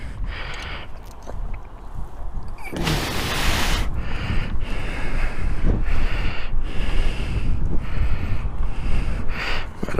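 Strong wind buffets the microphone outdoors, producing loud rumbling gusts and repeated bursts of roaring noise that swell and fade through the whole stretch.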